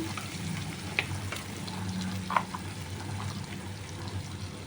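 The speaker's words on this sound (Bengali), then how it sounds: "আর এর মধ্যে একে একে এখন আমি সামান্য পরিমাণে আদা লঙ্কা বাটা গ্যাসের ফ্লেমটা কমে নিলাম" Ginger-chili paste frying over a lowered gas flame in a pan for a shrimp capsicum curry, a soft continuous sizzle with a couple of faint clinks, fairly quiet and steady throughout.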